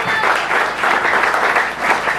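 Congregation clapping in a church during a worship service, a dense sustained wash of many hands over about two seconds, steady and loud with no voices standing out.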